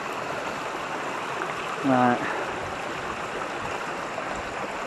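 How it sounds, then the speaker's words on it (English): A small woodland brook a few inches deep flows with a steady broadband rush throughout, fairly loud and close, while someone speaks a single word over it. "just a little brook, 3 or 4 inches of water in it"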